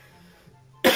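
A single sharp, loud cough bursts out abruptly after near silence during a Call of Duty: Advanced Warfare gaming session, deliberately masking a word.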